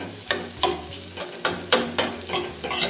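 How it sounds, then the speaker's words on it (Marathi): A spoon stirs egg bhurji around a pan, scraping and tapping against the metal in a fairly regular rhythm of sharp strokes over a low sizzle, close and clear. "असं व्यवस्थित हे चमच्याच्या साह्याने परतत राहायचं"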